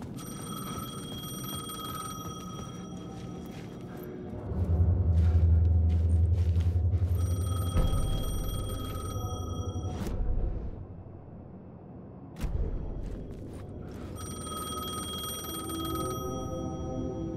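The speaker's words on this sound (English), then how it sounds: "Phone was ringing." Telephone ringing in the video game Alan Wake II: repeated bright electronic rings in bursts with brief pauses, fairly loud over a low rumbling game ambience.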